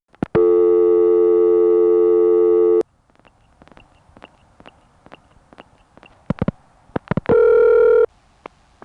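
A 1975 electronic switching system telephone exchange sounds a steady busy tone for a few seconds, then gives a series of faint clicks and short ticks. Another brief, loud tone follows before the line falls quiet.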